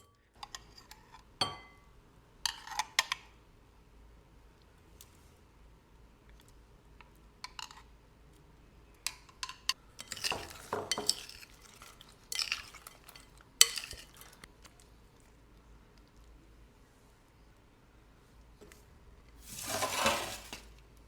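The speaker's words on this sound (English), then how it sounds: "Add the tropical sauce to the wings. Toss them until they're completely covered." Chicken wings get tossed in tropical sauce in a bowl, giving scattered clinks and sticky rustling bursts amid quiet stretches, with a louder run of tossing near the end.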